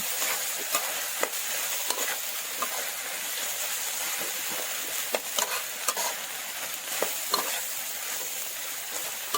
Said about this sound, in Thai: เราจะผัดแบบผัดแห้งๆหน่อยนะคะ